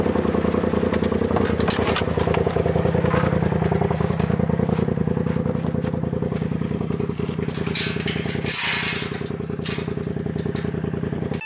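A Polaris RZR Turbo S off-road side-by-side with straight-piped exhaust runs loud and close for a long stretch, with a steady raspy rumble, crackles and turbo whine, and the engine note rises and falls.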